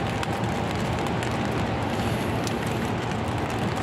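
Dense, steady hiss of heavy rain pouring down continuously during a red rainfall warning, loud and close, with no voices.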